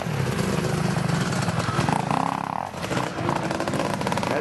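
A Suzuki motorcycle in need of repair races at a toy run event, its engine running loud and close with a steady, buzzing, uneven drone that dips briefly before picking up again.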